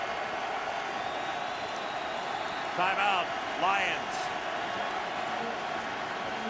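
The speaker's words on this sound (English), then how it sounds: "And once again, the crowd getting loud." Steady roar of a football stadium crowd at a Washington Redskins versus Detroit Lions NFL game during a third-down play, a dense wash of noise with a short public-address announcement heard over it.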